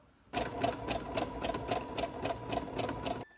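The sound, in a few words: sewing machine stitching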